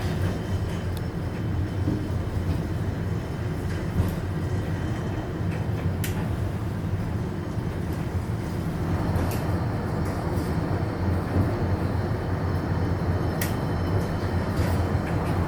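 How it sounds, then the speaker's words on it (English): The Monongahela Incline railway car in Pittsburgh runs with a steady low rumble and mechanical drone, continuous and close, with a few faint clicks and no talking. "we come to the Monongahela Incline, one of Pittsburgh's two famous incline railways."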